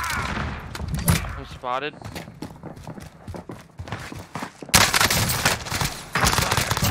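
Gunfire in the video game Warzone on Rebirth Island, with a PPSh submachine gun in play: rapid bursts of shots under and between a player's voice chat, growing louder and denser near the end.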